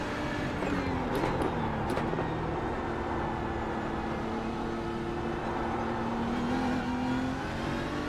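A race car engine in the iRacing sim game, heard around a track: a sustained, moderately loud engine whine that shifts pitch with throttle and braking, steady throughout.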